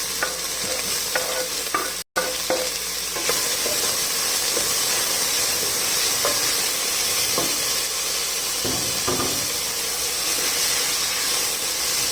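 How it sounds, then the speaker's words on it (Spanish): Tomato and onion fry in vegetable oil in a pot with a steady, close sizzle that runs the whole time. Faint stirring scrapes rise above it, and the sound cuts out for a brief moment near the start. "En una olla he colocado aceite vegetal y voy a agregarle el tomate"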